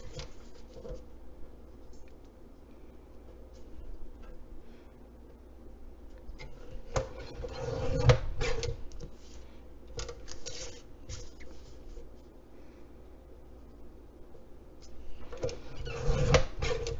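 Scissors cutting out a printed paper cover for a Christian prayer journal: soft intermittent snips and rustling paper, with louder crisp cuts and handling bursts near the middle and end, close and alone without talk.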